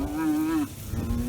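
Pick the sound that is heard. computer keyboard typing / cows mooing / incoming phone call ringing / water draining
cows mooing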